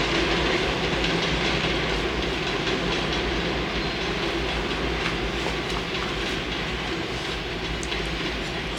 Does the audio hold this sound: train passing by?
yes